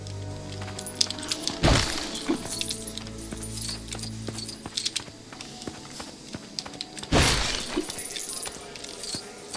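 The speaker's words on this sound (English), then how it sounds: "Break the table up." A LEGO table is smashed apart in the LEGO Jurassic World video game, heard as two bursts of clattering plastic bricks scattering, with lighter clicks and game sounds between and a voice talking over parts.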